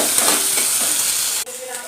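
Potatoes being stirred into a tomato curry in a pan, a steady close scraping and sizzling texture that breaks off briefly near the end and resumes more quietly.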